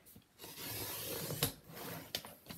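A Fiskars paper trimmer blade slides along cardstock in a cutting pass, giving a soft close rubbing scrape that lasts about a second, with sharper clicks at the start and end of the stroke.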